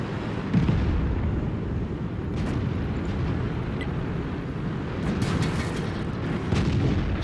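Heavy tank cannon fire and battlefield rumble from the Indien-Panzer tank game, a dense, continuous low booming roar with a few sharper cracks, loud and close throughout.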